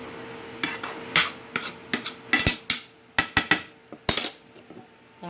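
Metal utensil scraping leftover onions out of a cooking pan, a series of sharp close clanks and scrapes in an irregular rhythm, each strike ringing briefly, with no talking.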